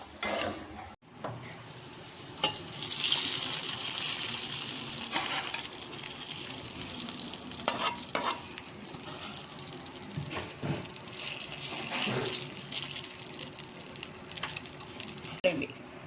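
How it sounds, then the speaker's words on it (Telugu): Sweet rice dish ingredients frying in a pan on the stove until golden brown, a steady continuous sizzle with occasional clinks and stirring scrapes, moderately loud and close. "ఇలా మంచిగా గోల్డెన్ బ్రౌన్ వచ్చే వరకు ఫ్రై చేసుకోవాలి."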